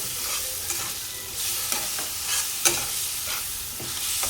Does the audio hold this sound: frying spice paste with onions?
yes